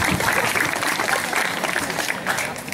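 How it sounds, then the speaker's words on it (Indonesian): Applause from a school audience at an Islamic talk at a junior high school in Klaten, Central Java: steady, fairly loud clapping from many hands throughout, with some murmuring voices mixed in. "Tepuk tangan."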